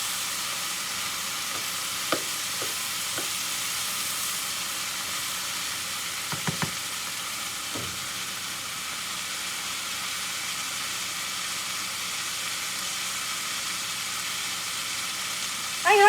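Beef for a stew sizzling steadily in a pan, a continuous close frying hiss across the whole stretch with a few brief clinks and stirring knocks, no talking.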